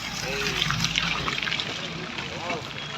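Water runs steadily along a damaged road in Gariyadhar, Bhavnagar district, a continuous close trickling and gushing wash with brief voices over it.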